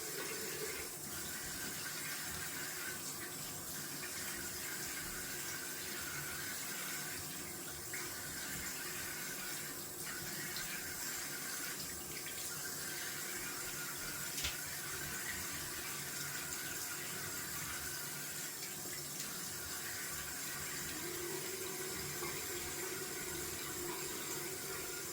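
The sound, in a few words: tap running, cold water rinse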